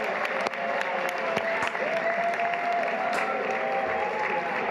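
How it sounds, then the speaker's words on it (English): An audience applauds in sustained dense clapping with scattered cheers, a crowd heard from some distance, continuous throughout. "Why are we applauding for that?"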